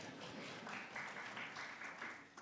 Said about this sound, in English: Thank you for those pity applause.